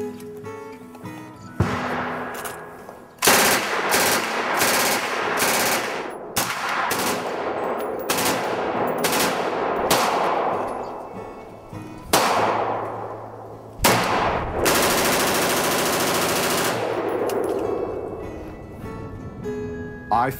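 Recreational firearms shooting outdoors: a series of loud, sharp gunshots at irregular intervals, some in quick bursts, each followed by a ringing decay, with a metallic clang near the start.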